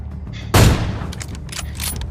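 A single sharp, booming AWM sniper rifle shot rings out in a video game, followed by a short decaying tail and scattered fainter crackling game sounds.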